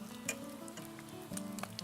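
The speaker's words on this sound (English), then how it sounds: "You'll hear a nice good sizzle." Chicken pieces sizzle in hot oil, searing presentation side down, a crackling, spattering hiss with scattered pops, close and fairly quiet.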